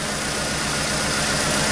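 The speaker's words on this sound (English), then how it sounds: "As we can see, the engine is misfiring." Chevy S10 engine idling with a misfire on injector number 4, a steady close rumble with an uneven low pulse running throughout, no talk.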